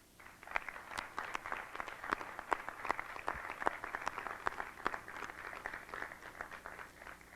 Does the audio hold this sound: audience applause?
yes